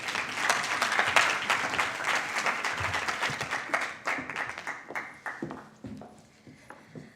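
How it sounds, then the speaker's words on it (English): Warm applause from the audience at an International Migrants Day event, a full crowd clapping loudly at first, then thinning to scattered individual claps as it fades out. "Let's give her another warm round of applause."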